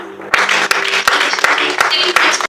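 A church congregation bursts into loud applause and cheering, starting abruptly and holding steady for about two seconds with shouting voices mixed into the clapping.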